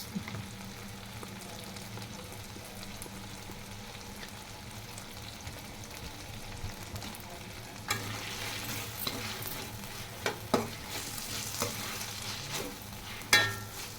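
Veg noodles stir-fried with pepper and tomato sauce give a steady low sizzle, with scraping stirs and sharper clinks growing busier in the second half.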